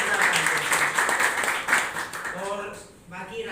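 Audience applause at a business event, a dense burst of clapping that swells and then fades, with someone speaking over it.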